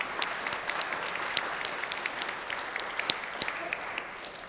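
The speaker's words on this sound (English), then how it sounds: "Weiss one more round of applause" Thin applause from a small adult education class audience, with individual claps clearly separated in a loose, uneven rhythm at moderate level, no talk over it.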